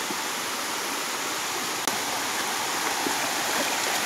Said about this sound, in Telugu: ఇదే ఉల్లిపిట వాటర్ ఫాల్